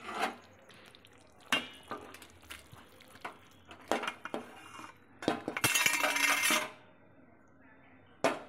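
A pot of koi fish curry is lifted off the stove amid a run of metallic clinks and knocks of dishes and utensils, close by, ending in a dense burst of rattling clatter.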